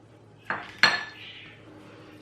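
A cookie batter of softened margarine and egg being stirred in a bowl, heard as a few sharp utensil clinks against the bowl with quieter scraping between them, close and alone.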